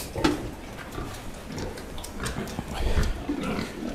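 Landrace pigs in a pen grunt and oink softly at close range amid shuffling and clatter, with faint speech nearby.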